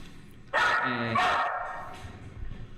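A dog barks in two loud, close bursts, the second run of yaps trailing off amid faint room noise.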